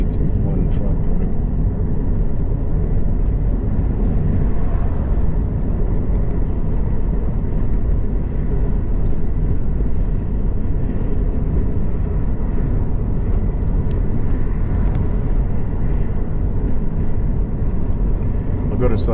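On a long straight road in the quiet Maramures region of Romania, a truck approaches as a loud, constant low rumble of traffic and wind, with talk running over it.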